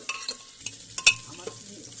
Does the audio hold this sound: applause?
no